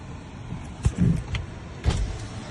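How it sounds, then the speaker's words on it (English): A car being parked in front of a gate at night: low engine rumble with two short mechanical whirring bursts and soft thuds close by, no talking. "So I'm going to park my car right here to ban so nobody else can go in."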